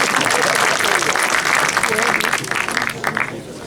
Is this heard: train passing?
no